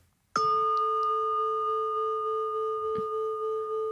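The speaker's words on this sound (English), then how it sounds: "So you can hear this gong that we've got because it's really good" A single gong is struck once near and loud, ringing on with a sustained metallic tone, then lightly tapped again a few seconds later while the first ring is still sounding.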